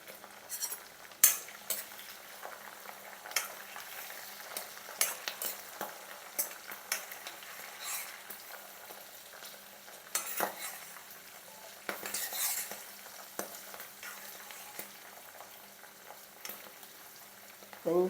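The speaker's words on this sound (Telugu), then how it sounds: "కొంచెం మగ్గనిద్దాం మిరపకాయలు." Dry red chillies fry in hot oil for amla pulihora while a spoon stirs them, giving a steady soft sizzle with scattered clinks of the utensil against the pan, close and moderately quiet, with no talking.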